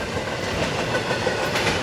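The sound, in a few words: freight train passing through Fullerton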